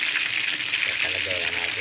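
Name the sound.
chicken frying in oil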